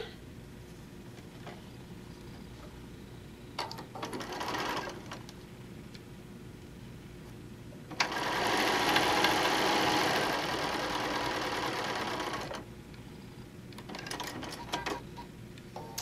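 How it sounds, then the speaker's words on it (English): A sewing machine stitches quilt pieces in short bursts: a brief run of whirring, then a longer steady stitching run of several seconds, and another short burst near the end, with quiet pauses between. "And then we'll sew the second one."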